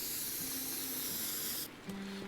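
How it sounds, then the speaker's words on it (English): Spray paint hissing from a can in the video game Teardown, a steady close hiss lasting over a second and a half before cutting off, with a faint low tone underneath. "let's spray paint them so they stick out like a sore thumb as need be."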